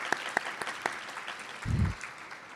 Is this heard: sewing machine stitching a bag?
no